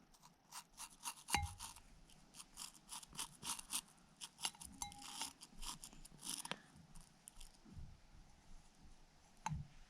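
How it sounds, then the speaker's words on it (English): A toothbrush brushes the main gear of a 2020 Daiwa Tatula SV baitcasting reel during a teardown, producing faint, close, irregular clicking and scratchy bristle strokes in short bursts with quiet gaps. "Just give it a little tiny wipe with the toothbrush."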